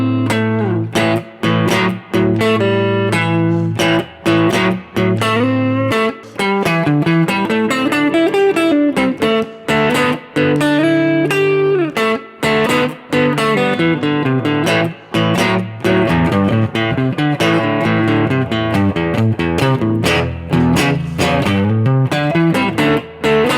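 Solo electric blues guitar, played loud and near, mixing chugging rhythm riffs with improvised lead runs and bends, unaccompanied and continuous throughout.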